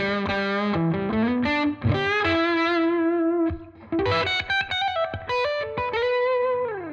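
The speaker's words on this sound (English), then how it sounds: "Off screen, I am playing my Gibson Les Paul Jr." A Gibson Les Paul Jr. electric guitar played through a Tonex Sir Ombre amp tone model, giving a driven, singing lead tone; sustained notes and quick runs, with a brief pause midway, close and clear with no voices.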